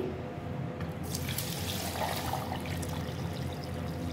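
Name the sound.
water being poured in for falsa sharbat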